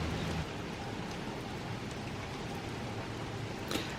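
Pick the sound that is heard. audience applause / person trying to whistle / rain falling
rain falling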